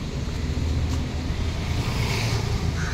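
A CNG-powered three-wheeler tempo goes by outdoors, giving a steady rumbling engine drone with broadband road and wind noise and no speech.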